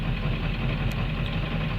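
A Ford Powerstroke 7.3 diesel engine idles smoothly, with a steady low rumble and a regular knocking clatter, heard close and alone.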